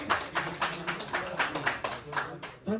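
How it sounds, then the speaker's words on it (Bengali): People at a Bangladeshi Canadian cricket team event in Toronto clap in a fairly steady rhythm, with quick repeated claps sounding close and moderately loud as voices carry alongside. "সবাই জোরে হাততালি"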